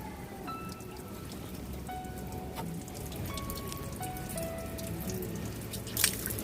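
Coolant water draining from a disconnected radiator hose on a Ford Fiesta, heard as faint, irregular dripping and trickling, with small splashes over a soft background wash and one sharper splash near the end.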